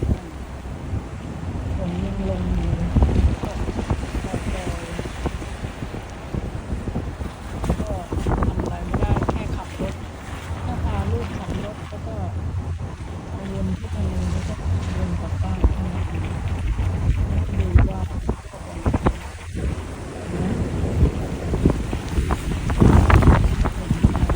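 Heavy rain drums steadily on a car while driving through town, a loud continuous wash of water and wind noise with muffled voices underneath.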